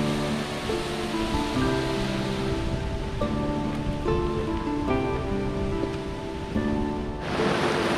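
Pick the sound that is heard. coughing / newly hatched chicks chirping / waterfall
waterfall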